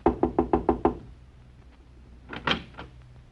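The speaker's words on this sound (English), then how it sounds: "I'll knock on the door." Five quick, evenly spaced knocks rap on a door up close, followed after a pause by a softer shuffling bump.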